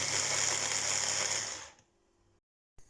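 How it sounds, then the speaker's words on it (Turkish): An electric food processor blends canned tomatoes with a loud, steady motor whir for about a second and a half, then winds down and stops, leaving near silence before a brief knock. "Konserve domatesimizi rondoda çekiyoruz."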